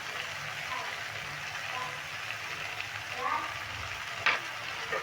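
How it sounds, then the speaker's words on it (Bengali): Ground cumin, coriander, garlic, ginger paste and green chili paste fry in a pan over medium heat for a banana flower curry, giving a steady close sizzle with faint stirring clicks. "এবার মশলাটাকে খুব ভালো করে জল দিয়ে কষিয়ে নিতে"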